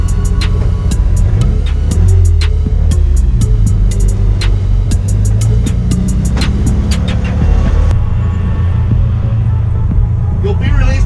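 A turbocharged D16-engined Honda Civic EK race car idling on the grid, a loud, close, steady throbbing engine hum with rattly mechanical texture throughout, the tone shifting slightly near the end.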